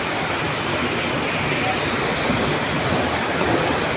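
Heavy rain pouring down in the dark, a dense, steady broadband hiss of water that stays loud and even throughout, with no clear voices over it.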